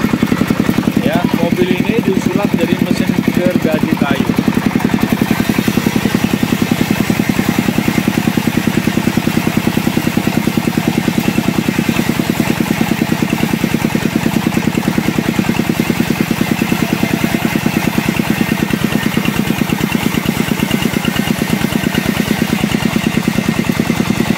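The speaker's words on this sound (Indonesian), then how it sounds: "mobil yang disulap menjadi mesin gergaji kayu" A steady, loud engine of an old Colt T car converted into a wood sawmill drones throughout at a constant pitch, with a rough mechanical rumble and faint voices underneath.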